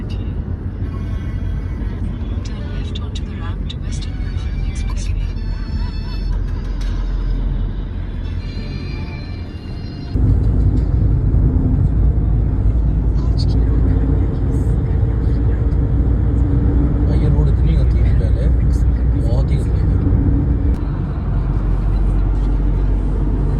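A car cruises along the KMP expressway in India, its steady low road and engine rumble continuous throughout, growing louder and fuller about halfway through, with faint voices in the cabin.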